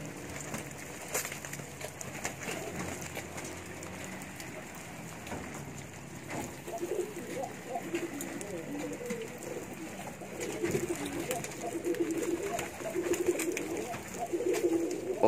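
Pigeons coo softly and repeatedly nearby while being fed, their low burbling calls growing more frequent toward the end over faint background noise.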